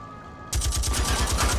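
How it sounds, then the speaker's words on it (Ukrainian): Machine gun fire in the video game The Saboteur starts abruptly after a quiet moment, then continues as a rapid, steady stream of loud shots. "ми можемо хоча б з кулемета постріляти в них"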